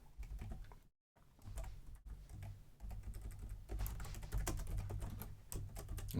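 Steady clatter of typing on a computer keyboard during a Rust programming session, close and continuous with dense key taps and one brief pause early on.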